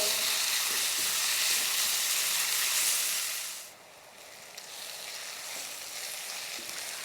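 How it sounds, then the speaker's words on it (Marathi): Onion and tomato frying in a pan for a spicy cauliflower and pea dry curry: a loud, continuous sizzle that drops off abruptly partway through, then settles into a quieter, steady hiss. "ह्यात टाकायचं आहे टॉमॅटो आणि ह्या कांद्यात टॉमॅटो पण चांगलं असं नरम करून घ्यायचं"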